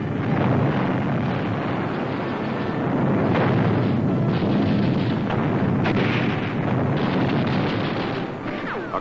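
Continuous heavy rumble of WWII artillery shell fire on the volcanic-sand beach of Iwo Jima, 1945, dense and loud throughout with broad booming bursts swelling over a steady roar, no talk.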